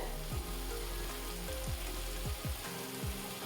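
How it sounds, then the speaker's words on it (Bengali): Steady crackling sizzle of chili curry frying in an open, uncovered pan as its water cooks off, continuous and close, with faint low clatters of stirring underneath. "ঢাকনা ছাড়াই আমি এই জলটা শুকোতে দেব তাহলেই ভাজা হবে ভালো করে"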